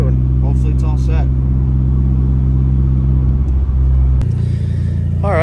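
A Nissan S13 idles with a steady, loud, low engine drone after a fuel system upgrade with a new fuel pressure regulator. Someone talks over it, and the engine tone shifts slightly near the end.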